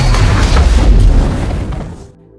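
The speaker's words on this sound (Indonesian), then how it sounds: "James segera turun lalu meledakkan bom di dalam mobilnya." A car bomb detonating inside a car in an action film, a single loud deep boom with a rolling rumble that holds for about two seconds and then cuts off sharply.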